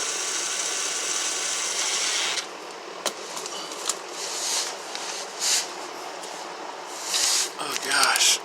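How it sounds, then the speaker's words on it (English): A torque wrench tightens the oil pan fasteners on a 2009 Honda Accord V6, making sharp ratcheting clicks at irregular intervals against a steady background hiss. "they just need to be torqued down at 9 foot-pounds"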